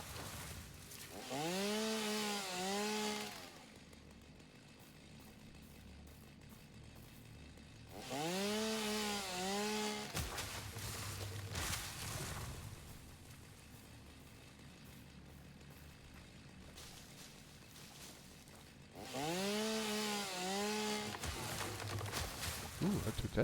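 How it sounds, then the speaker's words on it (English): Chainsaw cutting trees in the video game Satisfactory, heard as three separate buzzing bursts of about three seconds each, spaced several seconds apart. The engine whine rises and falls within each burst, with quieter stretches in between. "if I use the chainsaw, it will pick it up"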